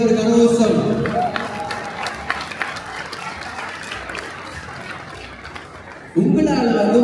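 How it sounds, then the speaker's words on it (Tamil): Audience at a Tamil community fashion show in Germany breaks into applause and chatter after a voice on the mic, the clapping fading over several seconds before the amplified speaking voice returns. "அதுக்காக உங்களுக்கு ஒரு பெரிய ஒரு கரகோஷம்."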